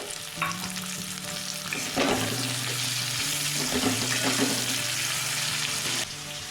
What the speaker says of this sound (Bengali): পেঁয়াজগুলো এরকম সরু সরু করে কেটে নিয়েছিলাম দিয়ে দেবো পেঁয়াজগুলো